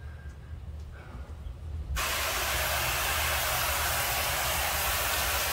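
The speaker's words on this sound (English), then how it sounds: "I'm gonna take this and rinse off." A water sprayer bursts on at about two seconds and rinses away soot cleaner, a steady broadband hiss that stays loud and close to the end, after a quiet stretch of low background rumble.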